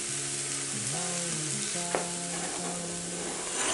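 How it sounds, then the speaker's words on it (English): Garlic frying for a beef lasagne sauce, sizzling steadily in the pan while being stirred, with soft scraping through the steady hiss and tonal music running underneath. "Then we'll add our garlic, let that cook for about another 2 minutes."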